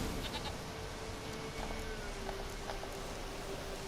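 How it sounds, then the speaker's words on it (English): A goat in The Witcher 3 video game gives faint bleats over a steady ambient game soundscape, with occasional soft hoof-like clops and no speech. "Here, goat."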